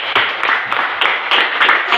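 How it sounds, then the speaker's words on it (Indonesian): Audience applauding a group in a class or meeting, a few people clapping in a loose, uneven rhythm, close and fairly loud for about two seconds. "kita tepuk tangan untuk kelompok terakhir dan kelompok 3"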